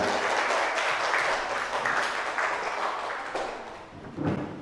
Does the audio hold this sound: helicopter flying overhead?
no